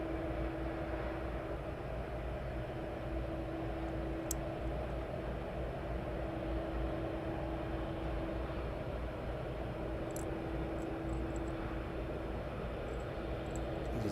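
A Boeing 757 airliner taxiing out at East Midlands Airport gives a faint, steady engine drone with a low whining tone, heard from a distance under broad background noise, with no talk.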